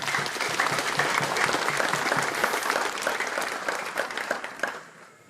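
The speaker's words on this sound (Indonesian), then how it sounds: "Mari kita satukan kebahagiaan dalam upacara peresmian Kodim 1811 Teluk Bernama dengan aplaus secara meriah." A crowd at a military district command inauguration ceremony claps loudly and steadily for about five seconds, a dense applause that tapers off at the end.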